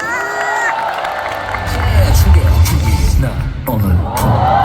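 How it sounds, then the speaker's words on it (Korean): A talk-show audience cheers and shouts in a burst of crowd noise, with some clapping, while people speak loudly over it. "자, 박수 한번 주세요."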